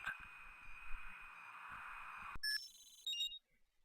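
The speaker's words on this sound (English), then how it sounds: "Oh, phone's ringing." Telephone ringing in Spycraft: The Great Game, a quiet electronic ring under a background hum, followed by a few short beeping tones before it falls silent, with no talk.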